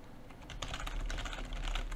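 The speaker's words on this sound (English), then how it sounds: "Whereas if I'm typing" Someone types on a computer keyboard at close range, a quick uneven run of light clicking keystrokes over quiet background hiss, with no speech.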